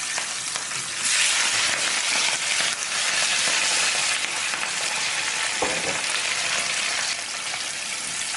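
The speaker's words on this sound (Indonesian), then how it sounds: "kita siapkan wajan dan minyak untuk menggoreng udangnya" Marinated shrimp fry in hot oil in a wok, a steady close crackling sizzle that swells louder partway through, with no talking.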